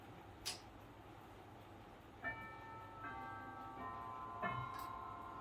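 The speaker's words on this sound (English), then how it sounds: "So I'll start with the Westminster chime that most people are familiar with, and at a quarter past we'll get a quarter of that chime." Tubular brass bells in a 206 cm walnut grandfather clock with triple chime ring the Westminster quarter chime, a few clear struck notes spaced apart, each ringing on softly in a quiet room.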